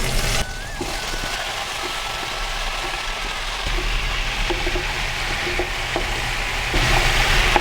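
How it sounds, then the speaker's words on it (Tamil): Chopped pumpkin and ash gourd sautéing in a pan, giving a steady close sizzle with faint scraping and stirring noises and a low background hum. "இப்போ நல்லா வதக்கலாம்"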